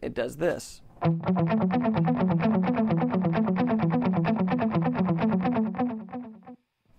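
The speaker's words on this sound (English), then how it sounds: "And if I add the delay to it," Electric guitar part played through a delay effect, rapid repeating notes with echoes stacking into a steady rhythmic pulse for several seconds, ending abruptly; a brief spoken voice comes just before the playing starts.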